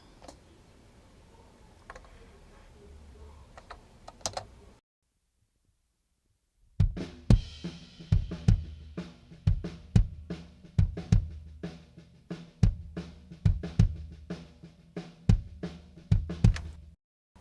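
An isolated kick drum track with snare bleeding into it: after a brief quiet gap, punchy thumps land in a steady rhythm with sharper snare cracks mixed between them, alone and without talk.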